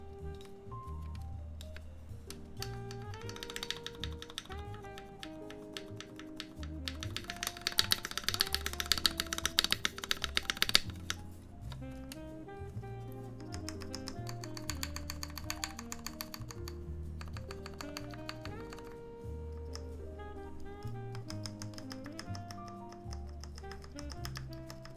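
Someone types on a freshly built Alf X3 Renova mechanical keyboard, a steady close stream of clacky keystrokes with a denser, louder flurry midway, soft background music underneath and no talking.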